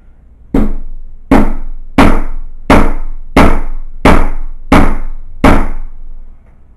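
Eight heavy hammer blows driving in a screw, landing at an even, steady pace, each a loud close thud that rings briefly before the next.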